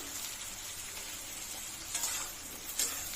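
Onions fry quietly in a pan with a low, steady sizzle for a Bengali chital fish bone chorchori, and two brief stirring clinks come near the end, with no talking.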